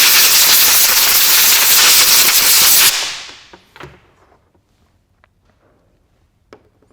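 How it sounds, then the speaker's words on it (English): Brake cleaner sprayed onto diesel engine tubes: a loud, steady close-up aerosol hiss lasting about three seconds, then stopping and fading, followed by a few faint knocks and clicks. "we'll just give them a bit of a tidy up with brake cleaner"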